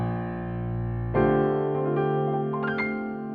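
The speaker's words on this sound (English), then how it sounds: "I learned a new voicing for a major chord that I think is really pretty." A major chord in a new voicing is played on a MIDI keyboard. It sounds as a sustained chord, and a second chord is struck about a second in and rings on with a few added notes. It is heard alone and fairly soft.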